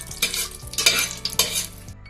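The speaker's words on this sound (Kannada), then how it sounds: "ಗೋಡಂಬಿ ಹಾಕೋತೀನಿ, ಇದನ್ನು ಸ್ವಲ್ಪ ಫ್ರೈ ಮಾಡ್ಕೊತೀನಿ." Cashews fry in hot oil for ghee rice, a bright close sizzle broken by a few quick stirring scrapes in a short burst.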